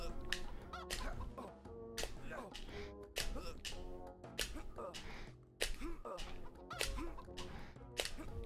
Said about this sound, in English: Seeing any other chickens out here either.